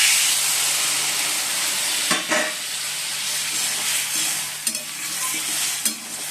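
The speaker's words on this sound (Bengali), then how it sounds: "অল্প করে আমি জল দিয়ে দিচ্ছি" A frying vegetable curry sizzles with a broad, steady hiss after water is added, broken by a few sharp clanks of a stirring spoon against the pan.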